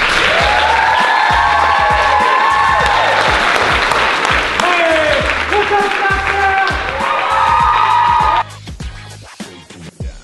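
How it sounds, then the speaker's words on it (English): Applause and cheering from a model audition crowd, with loud clapping and whoops over a steady pounding music beat and voices calling out; the music cuts off near the end, leaving scattered clapping. "So let's give a huge big round of applause to the CEO of Three Models, Mr. Josh Weinstein."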